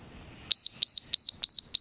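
An exercise timer's alarm goes off during a back-pain stretching session, giving a loud, sharp electronic beep that repeats steadily, about five pulses spaced roughly a third of a second apart, after a quiet room.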